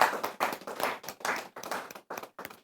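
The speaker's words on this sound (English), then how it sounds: "Can we give him a clap?" Studio audience clapping to welcome a chief operations officer at a sports network, a few hands clapping in short irregular bursts with brief gaps, close and fairly soft, no voices.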